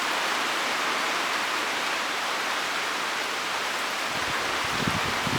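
Steady broadband rain falling during a severe thunderstorm, a dense continuous hiss at even loudness throughout, with a slightly heavier low rumble near the end.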